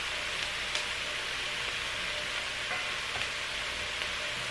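Leeks, celery and onions sizzle steadily in a pan for tripe stew, a dense continuous frying hiss with faint scattered pops and no talk.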